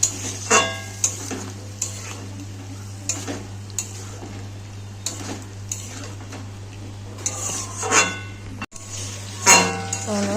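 A spatula stirs spice paste in a pan of oil for a fish recipe, repeated scraping and clinking strokes over a low steady hum, with faint sizzling between the strokes.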